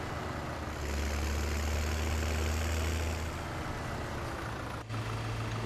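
A tractor engine idles in Farming Simulator 2017 as a steady, low mechanical rumble with broadband hum, continuous and fairly loud, with a slight shift in pitch near the end and no talk.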